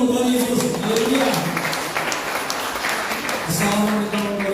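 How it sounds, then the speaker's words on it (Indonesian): A church congregation at a Christmas service claps together in a loud, sustained burst of applause lasting a few seconds, with voices mixed in. "Tepuk tangan untuk Tuhan Yesus"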